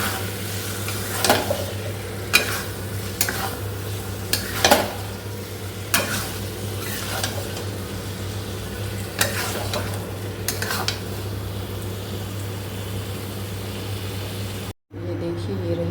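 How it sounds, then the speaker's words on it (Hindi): Paneer being stir-fried in a pan in a home kitchen, with a steady low sizzle and repeated scraping strokes of a spatula at a regular pace, close by, and a voice occasionally talking over it. "इसमें पनीर डाल के एक बार भूनूंगी, फिर ग्रेवी लगाऊंगी"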